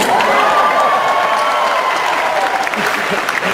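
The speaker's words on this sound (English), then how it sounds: "Is there a cheer, a round of applause for corned beef?" A fan convention panel crowd claps steadily in close, full applause, with some cheering mixed in throughout.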